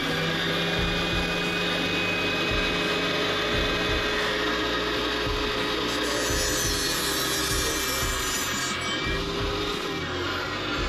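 A shaft is sawn by hand, with a dense, rasping cutting noise that runs steadily and loud throughout in a workshop, with no pauses or voices.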